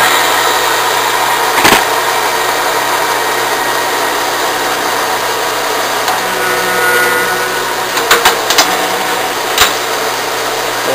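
An Enco tapping head on a Bridgeport milling machine cuts a 3/4-10 coarse thread at about 135 RPM. A loud, steady mechanical hum runs throughout, broken by a few brief clicks and knocks near the end. No one speaks.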